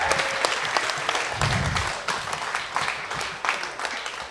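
Audience applause for a competitor at a frog-beating clap-off event, a loud crowd clapping steadily with some whoops and a brief low rumble partway through.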